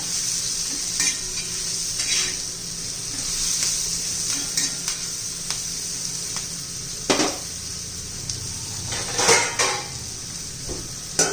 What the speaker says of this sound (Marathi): आता याच्यावर आपण झाकण ठेवूया